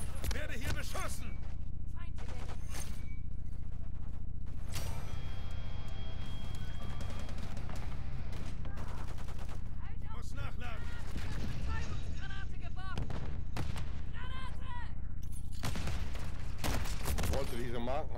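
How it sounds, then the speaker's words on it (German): Gunfire in Call of Duty Modern Warfare 3 crackles in scattered bursts and single shots amid battle noise, with stretches of German speech over the action. "Werde hier beschossen."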